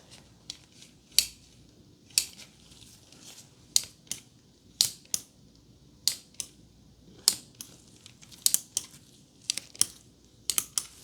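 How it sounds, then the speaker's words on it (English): Sharp clicks and snaps of a small metal measuring tool being handled, irregular and fairly close against a quiet background. "it is a measuring tool"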